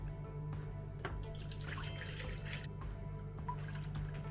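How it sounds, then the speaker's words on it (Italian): Water runs into a bowl holding yeast while homemade ciabatta dough is being started, a steady, quiet splashing stream with a few brighter bursts in a kitchen and no talking. "poi gli aggiungiamo l'acqua"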